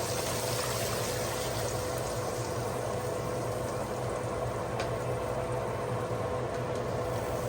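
Water poured into soaked rice and cumin in a pot for chana pulao, a steady, continuous rushing pour at moderate level, with no talk.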